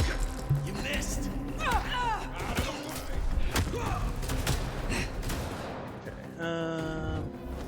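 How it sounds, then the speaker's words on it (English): Shotgun blasts in the vampire video game Vampire: The Masquerade Bloodlines 2, sharp thumping shots scattered among combat noise, with a person talking over the action throughout. "is that a shotgun?"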